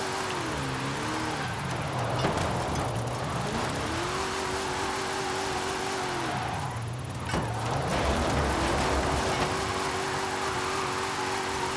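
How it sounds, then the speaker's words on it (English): A Plymouth Belvedere drifts in Forza Horizon 5. The engine note rises and falls steadily, with a swell of tyre and engine roar around the middle of the slide, loud and close throughout. "for a car with this much horsepower, it is actually quite exceptionally easy to drift"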